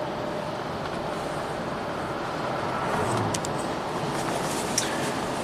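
A 1990s Cadillac loops around the block, a steady low road rumble and engine hum from inside the car, even and continuous with a faint tick or two near the end.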